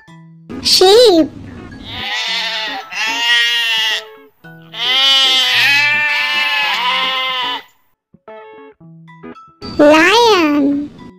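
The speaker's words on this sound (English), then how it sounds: "Sheep." A sheep bleats loudly in several wavering, quavering calls strung close together, with a voice briefly heard at the start and end.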